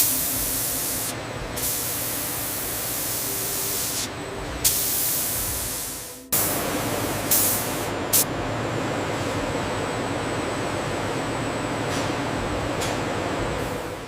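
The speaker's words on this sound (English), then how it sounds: "Polymer coating is applied at this stage to help stabilize the scales" Polymer coating is sprayed onto python skin in a snake-leather factory as a loud, steady hiss of spray that runs almost continuously, broken by a brief cut-off and a few short pauses.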